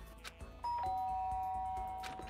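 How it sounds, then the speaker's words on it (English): A bright electronic doorbell chime rings over a busy soundtrack with light background music in Danganronpa: Trigger Happy Havoc, a sustained ding that fades slowly. "I guess I should press the doorbell."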